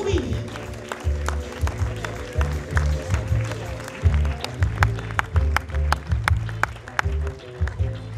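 Scattered, fairly distinct claps ring out for the jury at the closing gala of a crime film festival in Liège, set against a low rhythmic background with some voices.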